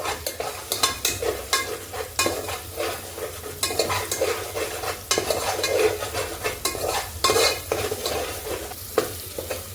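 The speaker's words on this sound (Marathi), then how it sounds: "आता आपण हे सगळं मिश्रण एकजीव करून घेऊया" A masala mixture being stirred in a pan makes a busy, rhythmic run of close spatula scrapes and clinks over a steady sizzle throughout.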